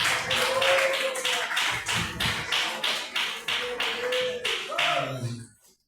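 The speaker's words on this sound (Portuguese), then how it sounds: "as palmas para o Senhor Jesus" A church congregation at a worship service claps together in a fast, steady rhythm, loud and close, while voices call out over the clapping before it stops abruptly.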